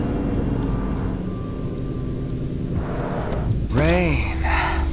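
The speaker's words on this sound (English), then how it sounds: "Rain." Rain pours in Final Fantasy XV as a car travels with its top going up, a steady dense hiss filling the scene. Near the end a voice gives a short exhalation over the downpour.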